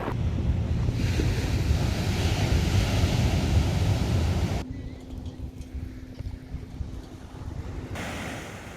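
Ocean waves rolling in at a popular surf spot, a steady broadband wash of surf with heavy wind buffeting the microphone, loud for the first half before easing to a softer, more distant rush.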